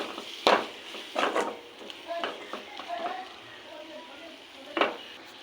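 Spices, chilli and turmeric, stirred in a pan for a dried fish curry: a few scraping stirs with soft sizzling, with a voice speaking in between.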